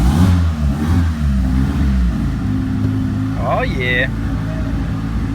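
A Honda Civic engine runs at a low rough idle, then revs up briefly in a rising whine before settling, heard up close in a garage while someone speaks over it.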